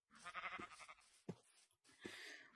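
Sheep bleat in the VR game QuestCraft, a few wavering cries with short gaps between them, faint in a quiet mix.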